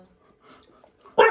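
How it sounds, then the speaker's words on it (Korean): A single sharp dog bark bursts out near and loud after a quiet stretch, during puppy training at a dog school. "다시 날 보고 짖냐 너?"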